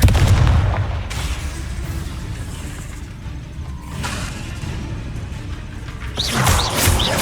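A Confringo fire blast spell cast in the video game Hogwarts Legacy lands as a loud booming blast, followed by a rumbling, crackling wash and a second heavy burst near the end.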